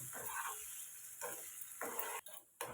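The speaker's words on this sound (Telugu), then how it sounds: "మనం సిమ్లో పెట్టి ఫ్రై చేసుకోవాలండి" Dhaba-style palak paneer masala frying on a low flame, with a soft, steady sizzle broken by several stirring scrapes of a spoon against the pan, close and fairly quiet.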